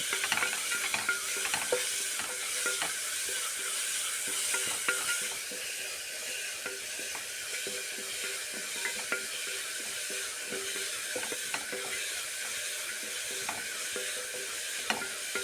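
Soya chunks sauté in a hot pan for a curry while being stirred, giving a steady close sizzle with frequent scraping and clinking taps of the spoon throughout, no voices.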